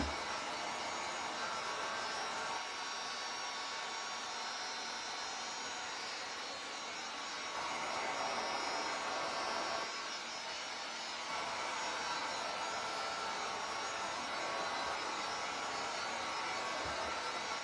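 A hot heat dryer blows on wet paint on a DIY monogram, giving a steady loud whooshing roar with slight shifts in tone as it moves, continuous and close.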